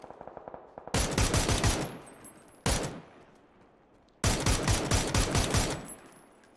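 Automatic gunfire in the PUBG battle royale on console, three loud sustained bursts of rapid shots separated by short pauses, close and dominating, with faint quieter shots before the first burst.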